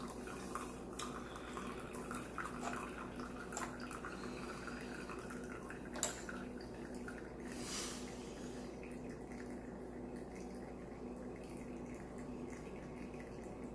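Coffee drains slowly through a Costa Rican chorreador cloth pour-over, faint soft drips and trickles against a quiet background, with no voices.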